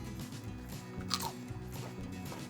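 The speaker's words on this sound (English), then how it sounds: "Oh yeah, I hear that crunch?" A single crisp crunch of a bite into a thin homemade potato chip, close up, followed by faint chewing in a quiet setting.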